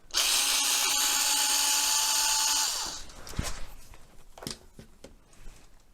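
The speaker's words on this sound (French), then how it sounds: "On dévisse ici pour accéder à la partie arrière." A power drill whines loudly and steadily for about three seconds while unscrewing the deck of a Kaabo Mantis GT 60V 2000W electric scooter, then stops, followed by faint clicks and handling of screws and parts.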